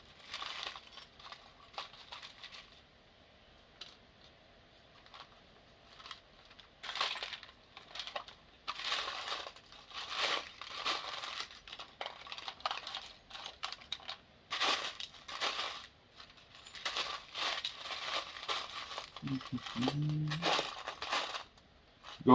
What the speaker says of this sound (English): Going through screws again, guys.